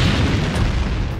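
An asteroid impact explosion rendered as a documentary sound effect: one deep, loud, sustained boom with heavy low rumble filling the whole moment, heard alone.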